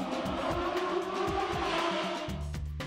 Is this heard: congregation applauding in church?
no